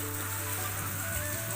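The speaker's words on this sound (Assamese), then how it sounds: "আলুখিনি ভাজি লওঁ" Potatoes fry in a pan with a steady, even hiss like light rain that holds at a moderate level without a break, and a low hum underneath.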